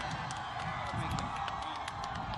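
A political rally crowd greets Imran Khan, chairman of Pakistan Tehreek-e-Insaf, with applause and cheering; dense, distant-sounding clapping and whoops form a steady roar that stays fairly even throughout.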